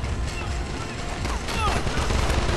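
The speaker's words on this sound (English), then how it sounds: "I need to go back to this machine gun" Machine gun fire in the Call of Duty Strike Team video game, crackling in dense bursts amid battle noise and a player talking over the shooting.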